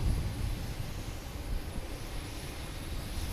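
A JetBlue Airbus A321 jet airliner arriving at Boston Logan airport gives a steady, broad engine roar at moderate distance, continuous and unbroken, with no voices.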